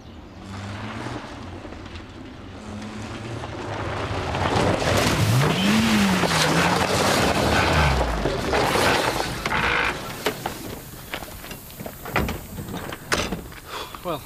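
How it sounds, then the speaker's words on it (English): A failing car engine with a blown engine revs and strains loudly, a rising whine wavering before it splutters and knocks into rough, uneven clatter, with a door-like clunk near the end. "Sounds like you've blown the engine."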